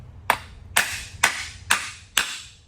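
Five sharp metallic hammer strikes in an even rhythm as a bearing is driven into a Honda S2000 pulley, each ringing briefly before the next, close and fairly loud.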